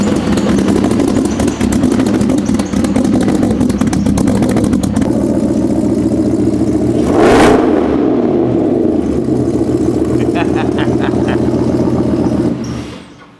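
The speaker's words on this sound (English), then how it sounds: "Good little cold start." An engine idles loudly after a cold start inside a garage, with a steady rumble, mechanical clatter and a sharp rev near the middle before settling and cutting off at the end.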